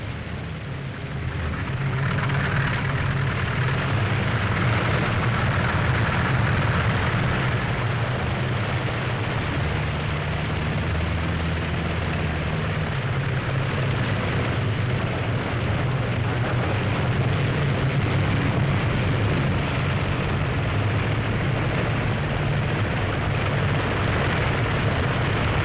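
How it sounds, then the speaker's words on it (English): World War II P-47 Thunderbolt fighter planes taking off for a 1943 mission, engines roaring in a steady, loud, continuous drone that swells slightly throughout, with no voices. "These Thunderbolts will need every thimble of gas to get to the target and fight and then"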